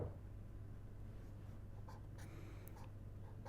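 Marker or chalk strokes writing an equation on a board during an energy economics lecture, a few faint scratchy squeaks over a quiet room hum, with no talk.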